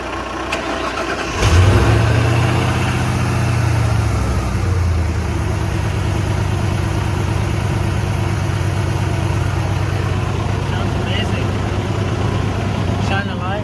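After an alternator replacement, a car engine cranks and catches, then settles into a loud steady idle that runs to the end.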